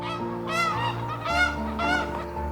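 Geese honk three times in quick succession near a spring carp fishing spot, loud nasal calls over a low steady background hum.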